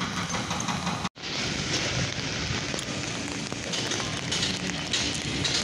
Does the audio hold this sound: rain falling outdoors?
yes